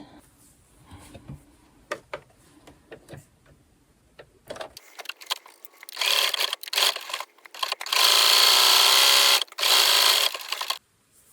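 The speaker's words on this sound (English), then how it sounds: "And now I'm going to sew that opening closed." A sewing machine closes the opening on a child's top. Quiet handling sounds come first, then loud, close bursts of rapid mechanical stitching that stop and start several times.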